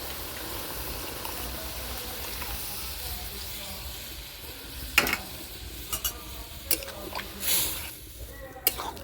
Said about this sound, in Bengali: দুধ দিয়ে আমি ভালো করে আর একটু নেড়ে নেব।